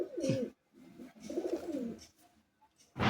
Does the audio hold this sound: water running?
no